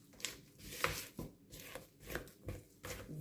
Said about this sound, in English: So as you can see, you're going to stir this in